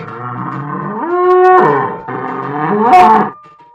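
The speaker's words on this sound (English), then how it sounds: "Yak." A yak lows in two long, deep, drawn-out calls that rise and swell in the middle before tapering off, loud and near with only a brief break between them.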